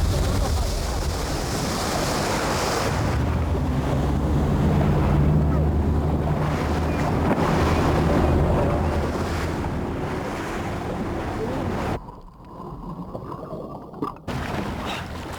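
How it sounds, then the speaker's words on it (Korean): A rubber boat's engine drives hard toward the coast during UDT SEAL training at sea, a loud continuous roar mixed with crashing waves and heavy wind buffeting, the rush dropping out briefly near the end. "다음은 고무보트를 이용해 최대한 신속하게 해안 가까이 접근해야 한다."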